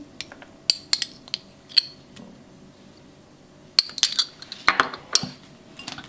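A teaspoon clinks against a bowl while mixing salt, pepper and mustard for a homemade McDouble, giving sparse, sharp metallic taps that come in two short clusters with quiet gaps between.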